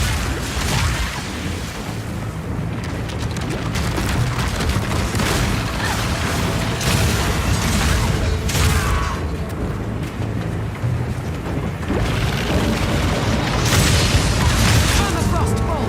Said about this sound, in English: Armor-piercing bolts.